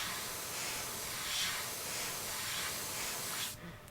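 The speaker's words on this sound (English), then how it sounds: "I'm holding the airbrush a little bit further back when I do that" An airbrush sprays paint onto a custom crankbait lure, a steady close hiss that swells slightly in passes before cutting off abruptly near the end.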